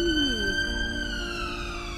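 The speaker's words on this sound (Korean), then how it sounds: "구급차 소리가 너무 짜증나는 소리야" An ambulance siren on a London street, a single rising-then-falling electronic wail sweeping in pitch, fairly clear above the low rumble of city traffic.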